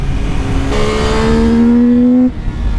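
CFMOTO 675 NK motorcycle engine revving hard under throttle, a loud, close, steadily rising howl that holds high before cutting off abruptly, with no talking.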